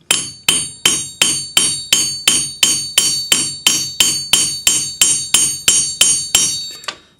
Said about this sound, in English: use your planishing hammer, use the slightly rounded end, and you're just going to hammer right on that spot